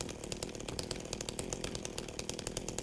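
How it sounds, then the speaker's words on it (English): A chainsaw in the Silent Hill 2 Remake game runs hard, a continuous buzzing roar with a fast pulsing chatter, fairly quiet and steady, with no voices over it. "Bust out the chainsaw."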